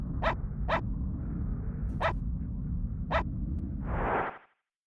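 A dog barking in the SNES game Secret of Evermore: four short, sharp synthetic barks spaced irregularly over a steady low hum, followed by a brief soft whooshing burst before silence.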